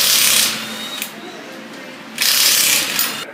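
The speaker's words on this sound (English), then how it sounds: "So now we'll go ahead and put the jack under." A car jack is slid into place under the jacking point beside the body cutout during a roadside tire change, with two short bursts of scraping and rustling handling noise, one at the start and a longer one near the end.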